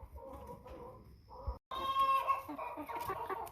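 An American Bresse hen clucks nearby in a few short, uneven calls, with a brief drop-out partway through and some farmyard background noise.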